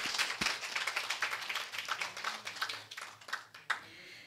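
Applause from the audience at an award ceremony for a bioscience debate competition, a moderate spatter of clapping that rises briefly and then thins out, heard without speech.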